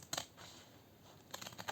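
Scissors cutting paper along a drawn line for a scrapbooking album, two short crisp snipping bursts up close with quiet pauses between.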